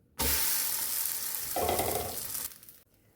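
Jowar paneer paratha laid flat side down on a hot griddle, sizzling in a steady, close frying hiss that swells briefly midway and then cuts off.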